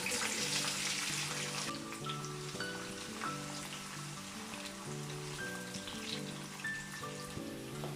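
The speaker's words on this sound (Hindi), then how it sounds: "अब हम शिमला मिर्चें हल्की सी फ्राई कर लेंगे।" Sliced bell peppers fry lightly in a tablespoon of oil, giving a soft, steady sizzle with a faint background hum and occasional small pops.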